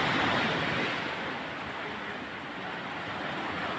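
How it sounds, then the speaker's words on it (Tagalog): Strong sea waves crash against coastal rocks, a dense continuous roar of surf and spray mixed with wind, steady and fairly close. "itong bumaba yung mga hampas ng malakas na alon"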